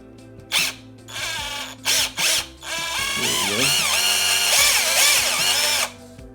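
A power drill spinning a stuck pivot ball on a Pro-Line PRO-MT 1/10 4x4 monster truck: two short bursts, then a sustained whining run with rising and falling pitch, loud and close, stopping abruptly.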